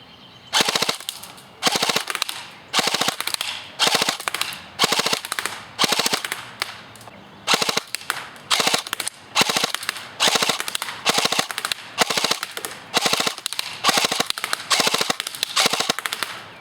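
A G&G CM16 Raider Combat Machine AEG airsoft rifle fires in a string of about a dozen rapid full-auto bursts with short gaps between, close and crisp with no talking.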